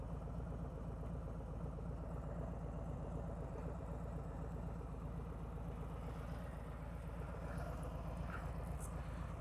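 A motorcycle engine idles in neutral, a steady low throbbing rumble close by with light mechanical clatter and no speech.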